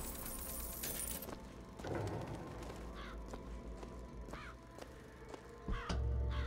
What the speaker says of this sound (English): All the crows make me nervous as well.